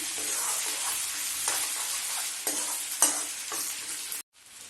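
Crushed ginger being mixed into a sizzling dhaba-style dal makhani masala in a pan: a loud, continuous frying hiss broken by a few spoon scrapes, cut off abruptly near the end, with no voices.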